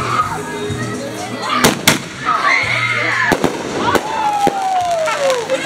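Firecrackers going off outdoors at a Fourth of July get-together, a rapid series of sharp bangs and crackles with whistling, whining rockets, under people talking.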